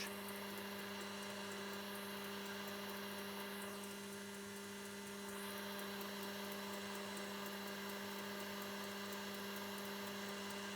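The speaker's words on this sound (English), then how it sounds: "I can see somebody's using a handheld blender" A handheld blender whipping egg whites in a plastic bowl gives a steady, continuous motor whine with a constant pitched hum, running on its own with no voices.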